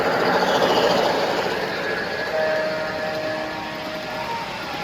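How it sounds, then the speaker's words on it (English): A B&O model passenger train runs at the Big E Train Show in Springfield, Massachusetts, giving a steady whirring hum with a faint high whine amid busy hall noise. "We're gonna get this B&O passenger train."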